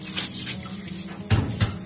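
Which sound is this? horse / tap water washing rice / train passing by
tap water washing rice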